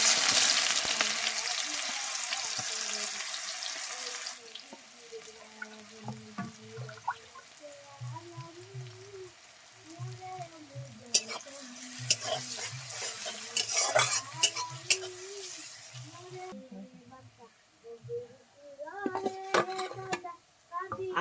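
Chopped onions go into a hot pan of oil with bay leaf, producing a bright sizzling hiss at first that settles into quieter frying, with spoon stirring scrapes and clinks under someone talking.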